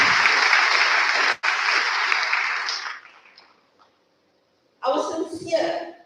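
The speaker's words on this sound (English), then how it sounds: "Give them a round of applause." Applause for award-winning learners at a secondary school Grade 12 awards ceremony: a loud burst of clapping with a brief break, fading out to near silence, then a second shorter round of clapping.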